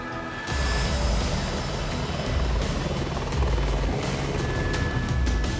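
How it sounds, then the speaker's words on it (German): A helicopter flying in the Nepal mountains en route to Lukla, its rotor and engine producing a loud, continuous throbbing drone that starts abruptly and holds steady, close by with no voices. "Auf dem Weg nach Namche Bazaar muss der Helikopter in Lukla zwischenlanden"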